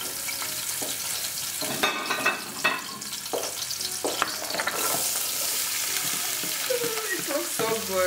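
Spring onion and leek stir-frying in oil for vegetable fried rice, a loud, close sizzle with repeated spatula scrapes and knocks against the pan, no talking.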